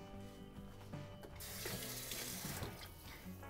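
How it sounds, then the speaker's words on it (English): Tap water runs into a sink to wet a cloth towel, a steady gushing splash that swells louder midway and continues alone without talk, close by. "So you want to take that towel and you want to wet it with water."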